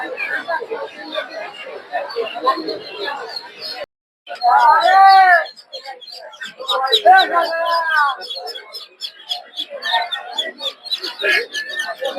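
Duck chicks peep and chirp in overlapping bursts close by at a poultry market, mixed with busy market chatter and voices talking throughout.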